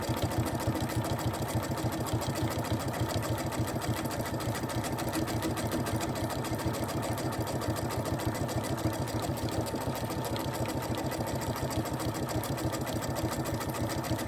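A home sewing machine stitching with metallic embroidery thread runs nonstop in a fast, even mechanical chatter. The rapid rhythmic whir stays close and steady for the whole stretch, with no voices.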